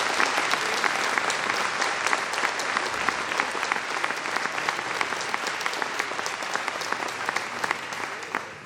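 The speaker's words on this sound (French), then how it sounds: "ça mérite un grand applaudissement pour ces messieurs et ces dames" A crowd at a French town's 2020 New Year's greetings ceremony in Castets claps steadily and loudly for several seconds, a dense even patter of many hands with faint murmurs mixed in.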